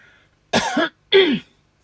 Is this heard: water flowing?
no